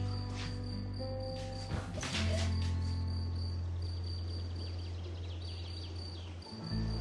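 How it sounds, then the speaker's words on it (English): A cricket chirps in a thin, steady high trill that pulses on and off over a low hum, with a brief rustle partway through and no voices. "Do you hear a cricket?"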